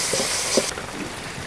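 Garlic paste goes into a frying fish curry with tomato and spices, giving a loud, steady hiss that drops off abruptly partway through and then continues as a softer sizzle.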